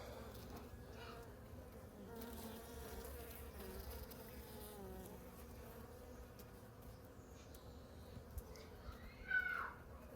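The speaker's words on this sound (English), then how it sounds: "Here's another bee that is emerging right now." Honey bees buzzing in a hive as a new worker bee emerges from its brood cell, a low steady hum throughout with a brief louder buzz near the end.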